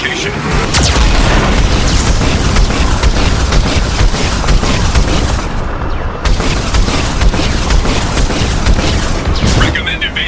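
Heavy Geth cannon blasts boom from the Mass Effect 2 mission Project Overlord, loud, dense rumbling explosions and gunfire that keep going almost without a break, with a brief dip near the middle.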